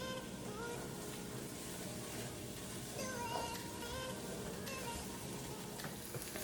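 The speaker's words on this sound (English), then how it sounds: "I'm gonna continue just letting this sizzle" Zucchini pasta sizzles and crackles steadily in a hot pan, a constant frying hiss with small pops, fairly quiet and close.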